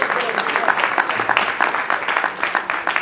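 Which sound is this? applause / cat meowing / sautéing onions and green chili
applause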